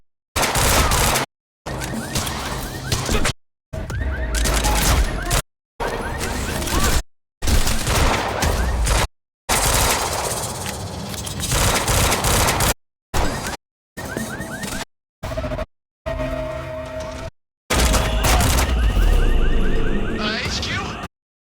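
Soldiers firing guns in Quantum Break, dense bursts of automatic gunfire and explosive cracks repeating across a long stretch, broken by brief silent gaps, loud and close with voices shouting in between.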